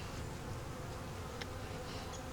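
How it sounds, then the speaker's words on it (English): Dense, steady buzzing of many honeybees inside a hive, close and continuous with no voices. "We have a lot of bees in here."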